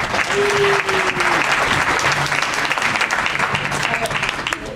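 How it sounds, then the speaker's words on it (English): An audience at a convention program claps for a young speaker, steady dense applause throughout, loud and close, with a brief tonal voice or cheer near the start. "so please give her a round of applause"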